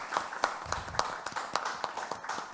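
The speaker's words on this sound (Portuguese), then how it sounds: "Eu peço uma salva de palmas para os presentes e também para os conectados." At the close of an international academic colloquium, a small group of people claps in a sparse, uneven patter of distinct hand claps, fairly quiet and close.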